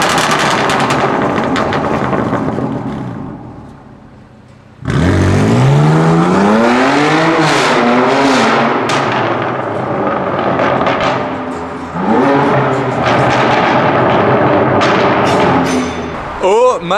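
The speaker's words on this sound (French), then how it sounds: "il m'avait dit qu'elle faisait du bruit, bon, mais là franchement j'étais pas prêt à ça, là le pot Akrapovic" Shiftech-tuned BMW M2 Competition with an Akrapovic exhaust arriving, loud revving bursts and rapid crackling pops from the exhaust, engine note rising and falling close by, with a voice reacting over it.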